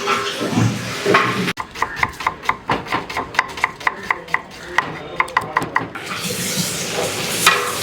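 Curry leaves hit hot oil in a big wedding-style sambar tempering with dried red chillies, giving a loud burst of sizzling, then rhythmic scraping and stirring taps before the frying hiss swells again.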